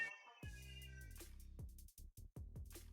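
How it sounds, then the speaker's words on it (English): A whiny house cat meows in several drawn-out, complaining cries, fairly close and loud, the calls breaking into shorter yowls toward the end with no talking. "That was a very whingy cat."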